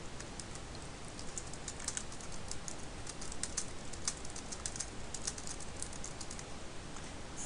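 Text typed on a computer keyboard, a quiet run of rapid, irregular key clicks over a steady hiss of background noise, faint and continuous with no voices.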